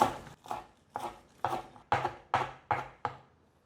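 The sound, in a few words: knife chopping celery leaves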